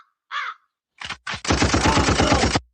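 A crow caws a single time, then after a pause a loud burst of rapid machine-gun fire rattles out as a stream sound effect.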